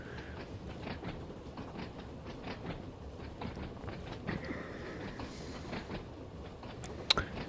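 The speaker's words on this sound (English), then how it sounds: "I never knew it was the world's oldest pier train." The world's oldest pier train on the Isle of Wight, as simulated in Train Sim World 2, rattling along with a steady rhythmic clickety-clack of wheels over rail joints and a sharp click near the end, no voices.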